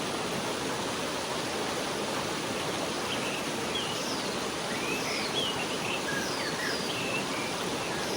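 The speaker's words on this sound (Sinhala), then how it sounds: "මේ තමයි මම අර කියපු වතුර පාර." A cold mountain stream flowing down from the forested hills at a campsite in Ohiya, Sri Lanka, rushes in a steady, even wash, with a few faint bird chirps above it.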